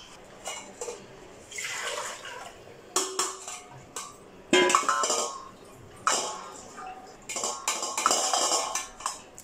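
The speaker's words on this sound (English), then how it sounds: "And now I'm gonna drain it again." Samyang spicy ramen noodles drained from a pot, with a run of clattering metal pot and utensil knocks and splashing water in uneven bursts, close and moderately loud, no talking.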